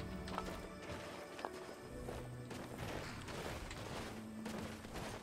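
Horse hooves clop in the video game Skyrim, quiet irregular hoofbeats mixed with faint game sounds and a few sharp knocks, soft and distant throughout.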